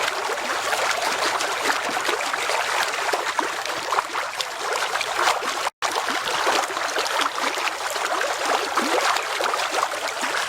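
Steady rushing, burbling spring water pours continuously from the ground at Boiling Springs, Pennsylvania, a dense close wash of gurgling flow with no voices over it.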